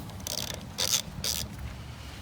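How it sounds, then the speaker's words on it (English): A 5/16 socket on a ratchet loosens the battery terminal bolt on a 2017 Honda Rebel motorcycle, giving three short bursts of quiet metallic ratcheting clicks over a low background hum. "So it looks like we're going to be dealing with a 5/16 socket. Stick it right on there and start loosening."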